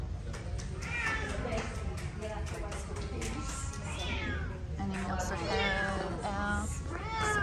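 Cats meowing repeatedly at a cat show, several rising and falling calls overlapping in a busy hall amid steady crowd noise, with a person talking over them.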